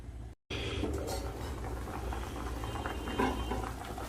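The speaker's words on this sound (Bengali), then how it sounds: "ঝোল কিন্তু টকবক করে ফুটছে" Potato and green banana curry bubbling steadily in a covered pot, a soft continuous simmer with low patter close by and no talk over it.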